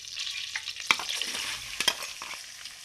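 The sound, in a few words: onions frying in oil in a kadai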